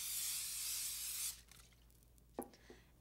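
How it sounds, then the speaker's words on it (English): A steady hiss of cooking spray from a can onto a hot grill pan lasts just over a second, followed by a few faint clicks and a soft tap. "coat a hot grill pan with cooking spray"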